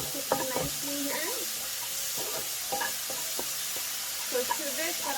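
A spring roll filling seasoned with salt sizzles and fries steadily in a pan, with a constant hiss broken by stirring and scraping, as a person talks over the cooking.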